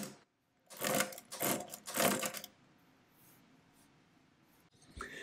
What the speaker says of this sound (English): you do have to hit that little carriage shifting lever a lot harder than you want to hit it on a device that's 110 years old